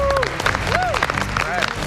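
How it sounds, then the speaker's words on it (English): MasterChef US contestants give a brief burst of applause and cheering while voices shout over it. "Give yourselves a round of applause."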